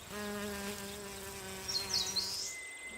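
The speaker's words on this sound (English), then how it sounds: "Eastern honey bees." Eastern honey bees from a 30,000-strong colony in a hollow tree in a Yangpyeong forest hum in a steady, faint drone with shifting pitch, one bee buzzing briefly closer.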